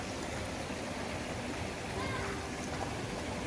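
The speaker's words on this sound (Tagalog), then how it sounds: "Aimee, the current is too strong for you. And it's cold too." A strong river current at a campsite produces a steady, broadband rushing wash of flowing water, constant and fairly faint, with faint voices underneath.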